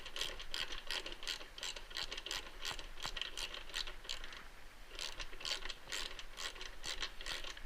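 A ratchet wrench clicks away during a $200 cafe racer motorcycle build, with close, rapid bursts of ratcheting repeating steadily throughout and no talking.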